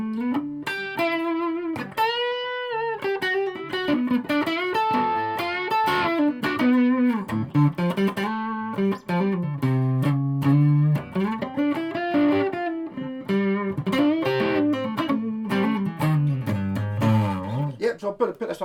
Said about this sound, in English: my light distortion channels seem to be working quite well.